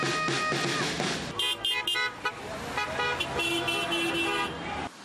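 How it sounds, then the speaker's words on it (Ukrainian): Car horns honk along a roadway in support of protesters lining the roads, several overlapping toots and longer blasts over passing traffic, fairly close and loud. "І за сигналами машин було зрозуміло, як багато людей їх підтримують."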